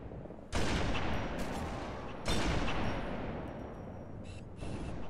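Heavy automatic gunfire from Halo 3 erupts in two long, loud bursts with a few sharp follow-up shots, close and sustained, with almost no talking.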